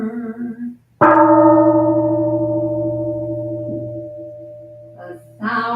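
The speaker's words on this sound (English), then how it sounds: "The sound of the temple bell booms for all to cease from conflict." A temple bell at a Sunday morning Buddhist service strikes once with a loud, sharp onset, then booms and hums in a long, slowly fading resonance. Brief voice sounds come near the end.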